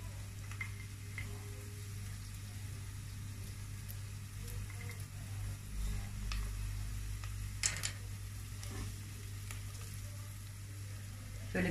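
Vegetables and garlic sizzle and crackle steadily in hot oil in a pan, with occasional light clinks of a utensil against the pan.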